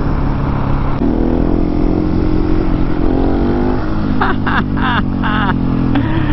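A 701 motorcycle in second gear during a wheelie: a close engine drones and climbs steadily in pitch as the throttle is held, with a few short higher sounds near the end.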